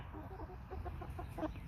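Chicken on a backyard flock, a few soft low clucks in quick bursts, faint and close over a quiet background hum, with no talking.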